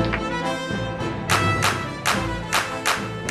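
Actor Cha Seung-won clapping energetically, about six loud sharp claps in an uneven rhythm over background music.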